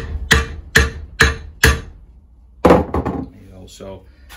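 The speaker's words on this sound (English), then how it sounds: "I'll give a bit of a hammer test." Four sharp, evenly spaced hammer blows strike a 3D printed 3-inch polisher backing plate for a Rupes LHR12E or LHR15E, loud and close, each with a short ringing decay, followed by someone talking.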